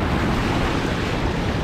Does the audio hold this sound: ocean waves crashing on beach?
yes